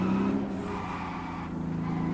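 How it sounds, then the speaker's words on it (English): Tyre roar from the GT Continental car in Test Drive Unlimited Solar Crown, a steady low rumbling drone with engine hum beneath, brief and even in loudness. "we're in the GT Continental, but the tyre noise is so one-dimensional across every car"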